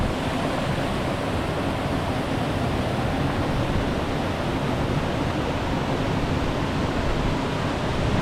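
A fast-flowing river tumbling over a waterfall in a misty valley, a steady broadband rush of water that stays loud, close and unbroken throughout, with no voices.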